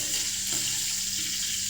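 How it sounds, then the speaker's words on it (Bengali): Whole spices, cardamom, cinnamon and bay leaf, frying in hot oil give a steady, even sizzle that holds at one level throughout, with no talking. "এখন এলাচি, দারচিনি, তেজপাতা দিয়ে দিচ্ছি। আর একটু লাল করে নিব তেলের ভিতরে।"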